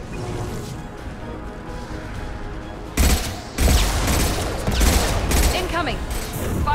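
Bursts of video-game gunfire in Mass Effect 2 break out after a few quiet seconds, loud and close, with rapid volleys and crashing impacts over a steady background hum.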